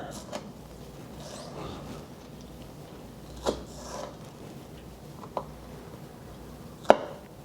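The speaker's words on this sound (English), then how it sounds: "I'm going to cut up some of these more, well, the white parts, into smaller pieces." A knife chops the white parts of vegetables into smaller pieces for a Cantonese chicken stir fry, with a few sharp, sparse cuts against the board over a quiet kitchen background.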